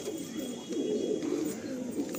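Green Madrasi pigeons at a loft coo softly in low, murmuring bursts, faint and close against a light background hum, with no talking.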